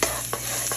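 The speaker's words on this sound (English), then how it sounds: "the sizzle means the oil's ready" Garlic and ginger sizzle steadily in hot oil for sesame broccoli and chicken, a close, continuous frying hiss broken by a few short stirring scrapes.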